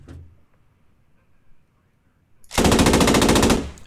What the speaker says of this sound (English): And then we can check the Hull MG